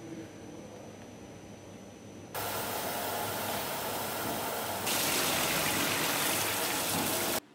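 Water runs steadily over activated carbon to rinse out its dust, a continuous hissing wash that jumps louder in two sudden steps as the flow increases, with no voices.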